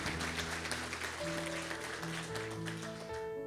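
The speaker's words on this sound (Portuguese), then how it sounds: "Uma salva de palmas para o nosso homenageado." Applause for an honoree at a 50-year company service ceremony, a dense wash of clapping under sustained background music tones.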